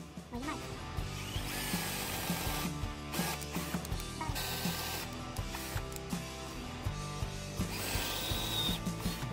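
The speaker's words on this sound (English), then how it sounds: "And then you're gonna drill" A power drill whirs in repeated short bursts, starting and stopping with mechanical clicks between runs, close by.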